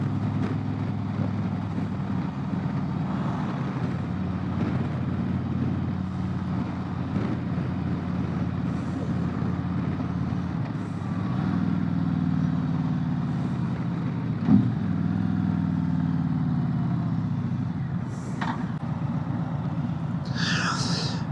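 A Harley-Davidson Road Glide Limited motorcycle engine revved hard: a deep, continuous rumble that swells midway, then settles, with a small knock along the way.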